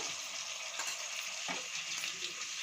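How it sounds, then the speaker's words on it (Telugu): Turmeric and salted tamarind being stirred in a frying pan, a fairly faint but steady sizzle broken by a few soft scrapes of the spoon against the pan. "పసుపు వేసి బాగా కలుపుకోవాలి వేగిన తర్వాత చింతకాయ ఉప్పు చింతకాయ వేసి"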